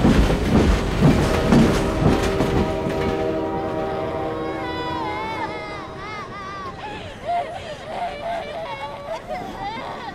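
A steam-era passenger train carrying refugees through wartime China rumbles heavily at first, then settles into a steady roll with drawn-out whistle-like tones, while voices and crowd murmur rise over it.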